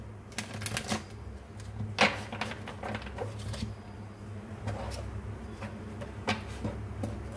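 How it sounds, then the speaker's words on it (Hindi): Tarot cards are shuffled by hand close by, a run of quick papery riffles and flicks with a few sharper slaps, over a low steady hum and without speech. "मैं आपके सामने ही कार्ड्स को शफल करके बताऊंगी।"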